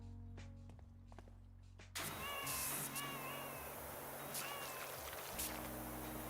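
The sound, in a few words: cat meowing in video game PowerWash Simulator 2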